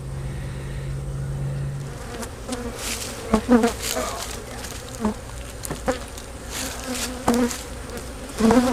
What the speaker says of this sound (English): that's a full box of bees too